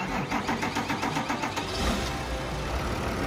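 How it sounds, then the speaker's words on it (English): A vehicle engine in the Farming Simulator video game cranks with a rhythmic churn and then catches into a steady mid-pitched idle, heard clearly and alone. "let me turn over the engine and let you guys hear it"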